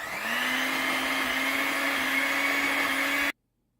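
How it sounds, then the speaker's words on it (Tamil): An electric hand mixer whirs steadily at one constant pitch while beating banana bread batter, close and loud, running for about three seconds before cutting off abruptly into silence. "இப்போ எல்லாத்தையுமே ஹேண்ட் மிக்சரால் நல்லா மிக்ஸ் பண்ணி விட்டுற போகிறோம்."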